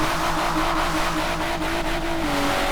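A BMW M4 engine hums steadily nearby, a continuous droning tone that shifts slightly in pitch as it holds for a few seconds, with no voices.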